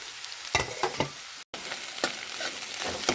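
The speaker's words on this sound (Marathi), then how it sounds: "आता आपण मीठ आणि मसाला लावलेली भाजी त्याच्यात परतून घेऊया" Salted, spiced bhangara greens being stirred into sautéed onions in a hot pan, a continuous sizzle punctuated by several sharp scraping stir strokes and one brief dropout.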